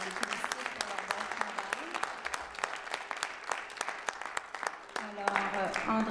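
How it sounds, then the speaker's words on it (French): At a school spelling bee, an audience applauds students with a steady patter of many hands clapping, moderately loud, while a voice speaks over it and the clapping thins out toward the end. "Alors, ces élèves, on les applaudit."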